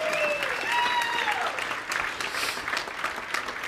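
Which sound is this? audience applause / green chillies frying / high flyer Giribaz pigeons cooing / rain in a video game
audience applause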